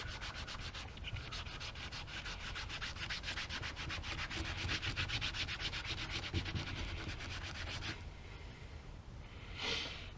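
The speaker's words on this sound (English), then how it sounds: "Rub the sole down with xylene." Close, steady rubbing of a cloth soaked in xylene over a boot outsole on a Red Wing 2143 boot during a Goodyear welt conversion, a dense continuous scrubbing rasp that stops near the end, followed by a brief softer swipe.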